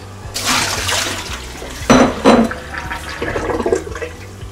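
Hands wring cold water out of vegetables rinsed in ice water while making bibimbap in a home kitchen, producing close, loud bursts of splashing and dripping in irregular surges.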